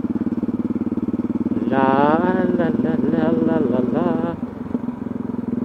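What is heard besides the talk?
motorcycle riding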